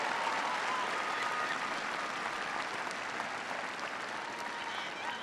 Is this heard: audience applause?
yes